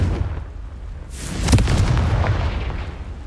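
A Confringo blasting spell erupts in Hogwarts Legacy as a single heavy, booming explosion. It hits with a sharp crack and a deep rumbling tail, standing alone over low ambient noise.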